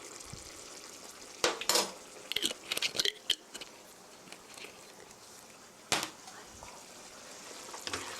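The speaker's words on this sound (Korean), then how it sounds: "고루 저어주시고요." Mapo tofu stirred in a pan after sesame oil goes in, a faint background sizzle broken by scattered scraping and clinking strokes of a utensil against the pan, with no talk.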